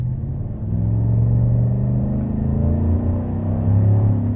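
A 2024 Chevrolet Silverado pickup's engine rumbles low and steady in sport mode, rising slightly as it accelerates, close by with no voices.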